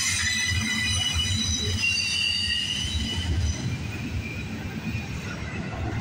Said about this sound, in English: This train terminates in Montreal, Quebec.